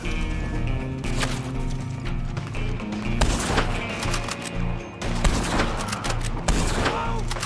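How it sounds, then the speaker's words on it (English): Gunfire in the Red Dead Redemption 2 online western game, a dense run of shots and bursts going on throughout amid other game noise, with no talk. "They're shooting me really hard."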